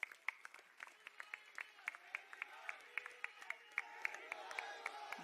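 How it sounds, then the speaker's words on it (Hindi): Scattered, sparse clapping from an audience at a political rally greets a speaker, individual claps standing out sharply over a faint background of voices, building slightly toward the end. "मेरी मुराद है आपकी तालियों के बीच अरविंद केजरीवाल साहब।"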